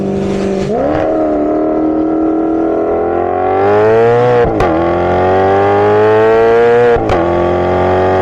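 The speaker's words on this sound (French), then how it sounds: "quand vous activez le mode sport, l'échappement il se libère" A Maserati GranTurismo with the exhaust opened in sport mode revs loudly and close, its engine note rising and sweeping through several climbs with brief blips between, no talking.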